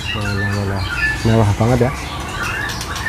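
A pentet panda songbird gives a few sharp, whistled calls and squawks close by, in short bursts with gaps between, while a person talks over part of it.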